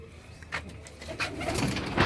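Pigeons coo indoors in a home loft, with soft repeated throaty coos and a few brief flutters, close and fairly quiet, with no talking.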